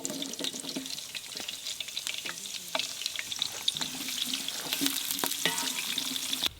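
Green chilies fry in hot oil, a steady close sizzle with bursts of crackling and a few scraping stirs.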